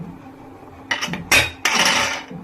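A few metallic clanks and a scraping clatter as a heavy pressure cooker lid is set and locked into place, close by, with no talking.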